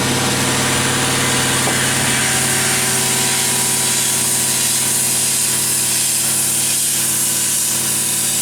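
A Pat Mooney PMI-20 upcut saw for aluminum profiles runs steadily, a loud continuous mechanical drone and hiss that stays even throughout without cutting bursts.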